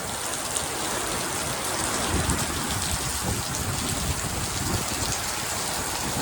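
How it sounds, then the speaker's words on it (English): Heavy rain pouring down during a desert storm in Palm Desert, a dense continuous hiss of drops hitting the ground, loud and steady with no voices. "It really just started pouring."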